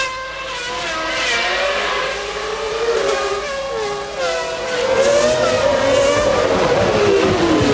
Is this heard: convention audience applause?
no